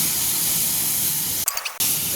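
Jackfruit seeds drop into a hot pan of spiced masala with chilli powder and salt, giving a short burst of loud spraying sizzle over a steady background hiss.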